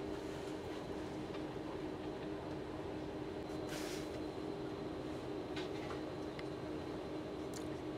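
Steady rumble of a Virgin West Coast train from Glasgow to London rolling along rails, with a constant low drone and faint clicks and squeaks from the wheels, heard from inside a carriage.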